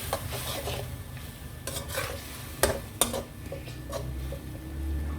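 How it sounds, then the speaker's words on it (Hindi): A spoon scrapes and stirs turmeric into karela chicken keema in a pan, giving a series of uneven scraping strokes over a soft sizzle, close and fairly quiet. "अब अच्छे तरीके से हम इसको मिक्स कर लेंगे"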